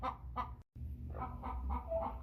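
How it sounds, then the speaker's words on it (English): An American Bresse broody hen clucks in low, repeated murmuring pulses, fairly close, with a brief gap of silence partway through. "the broody started clucking"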